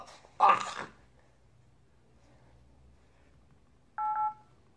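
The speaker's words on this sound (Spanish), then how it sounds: "Voy a marcarle ahora de verdad." Telephone keypad tones sound as a number is dialed: a short tone, a long silent pause, then a second clear beep, with no one talking.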